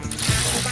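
A ratchet tightens suspension bolts on a Toyota Sera build, a short, close burst of quick metallic clicking from the pawl over less than a second.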